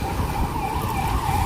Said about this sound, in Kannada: ಆಂಬುಲೆನ್ಸ್ ಬೇರೆ ಬರ್ತೈತೆ